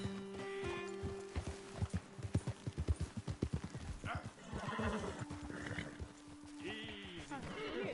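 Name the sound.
horse hooves clip-clopping in a video game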